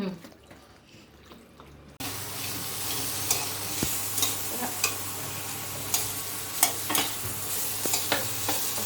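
Carrots frying in a pan, heard as a close, steady sizzle with scattered crackles and stirring clinks. The sound starts abruptly after a quiet opening and stays loud to the end.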